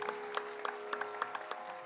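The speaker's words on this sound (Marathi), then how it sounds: "अगर प्रस्तुति पसंद आई हो तो जरा जोर से तालियां" Sparse audience clapping after a stage presentation, a handful of distinct claps popping out over a low hum, moderately near and fairly light, with no voices.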